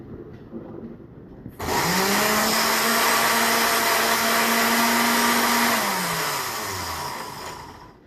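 A low-power blender crushes ice into slushy, starting abruptly with a loud steady whirring drone that holds for several seconds, then slows and winds down, heard alone without talk.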